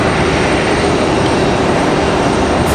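A Frontier Airlines jet at Raleigh-Durham International Airport, heard as a loud, steady broadband engine roar that holds close and constant for a few seconds with no voices.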